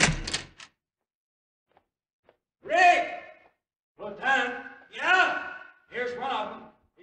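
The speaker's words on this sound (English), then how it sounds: "I heard the door open." A brief door-opening sound effect from a 1951 old-time radio detective drama, a quick burst of clicks and rattle at the start, then a voice speaking in several phrases.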